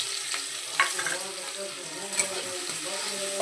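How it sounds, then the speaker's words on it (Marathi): Green chillies and garlic sizzle in hot oil in a kadhai while fenugreek greens are being cooked: a steady, fairly soft hiss with occasional light clicks from stirring. "मेथीच्या भाजीसाठी इथे मी तेल कढईत टाकून घेतलेलं आहे आणि आपण टाकूया आता हिरवी मिरची"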